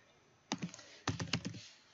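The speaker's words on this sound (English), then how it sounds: "I'm going to type in my information." Keys clatter on a computer keyboard in two quick close bursts of several taps each, crisp and near in an otherwise quiet room.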